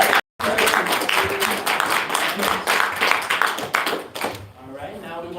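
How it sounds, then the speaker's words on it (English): A seminar audience gives a dense, sustained round of applause that fills the room after a brief gap, with voices and cheers mixed in and the clapping thinning toward the end. "Can we get one more round of applause?"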